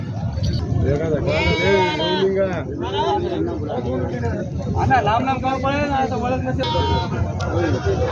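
Goats bleat repeatedly, many overlapping wavering cries from a crowded goat market in Vasmat, India, with people talking in the background throughout.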